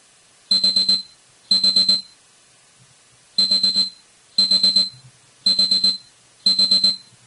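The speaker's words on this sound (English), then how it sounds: "We noticed that our alarm went off." A software gauge alarm beeps in short rapid trains, six bursts of quick high-pitched pulses separated by brief silences, clear and steady.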